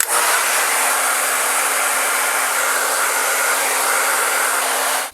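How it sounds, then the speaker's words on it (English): A hair dryer blows continuously close by on twisted type 4 natural hair, a steady loud whooshing hiss with a faint underlying hum, running unbroken until it switches off at the end. "I'm gonna dry my twists just a little bit more on the ends."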